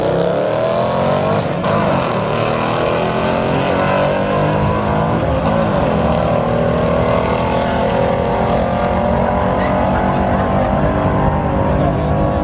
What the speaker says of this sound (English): Oh, the Mustang jumping the gun early.